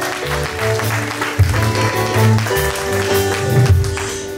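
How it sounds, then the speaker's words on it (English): A church congregation at a baby dedication ceremony claps, with the applause running under steady, tonal music throughout; the clapping sounds moderately loud and continuous, and a few louder accents stand out. "A round of applause for Jesus."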